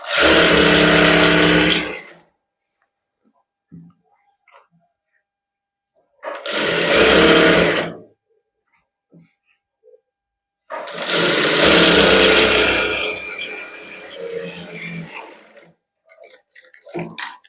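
A sewing machine stitches a straight salwar in three loud whirring bursts separated by pauses, with a voice talking briefly in the gaps.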